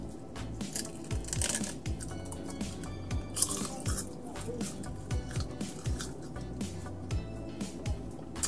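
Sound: eating crispy seaweed snack

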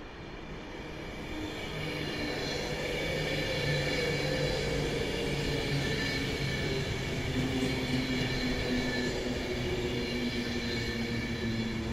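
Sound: Avanti passenger train passing on the line

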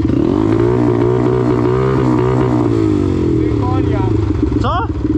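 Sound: quad bike engine misfiring, running unevenly

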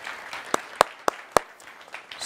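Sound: audience applause

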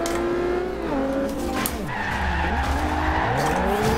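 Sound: car drifting, tires skidding in Forza Horizon 2 video game

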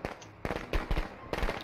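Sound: firecrackers going off in Friday the 13th video game

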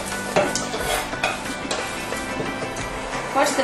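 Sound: onion and mushrooms frying in oil in a pan

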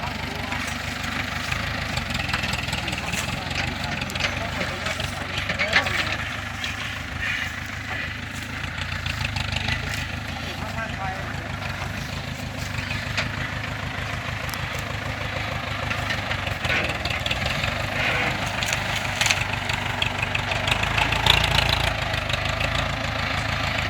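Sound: tractor engine running while pulling a sugarcane truck

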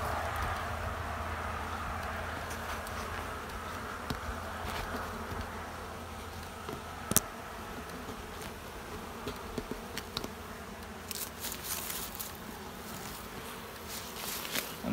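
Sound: honey bees buzzing at an opened hive

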